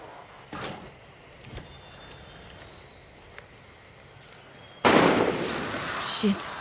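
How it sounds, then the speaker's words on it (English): Distant gunfire in the Far Cry 6 video game: a couple of faint pops early on, then a sudden loud burst of shots and noisy rumble that carries on to the end. "Shit, who's shooting?"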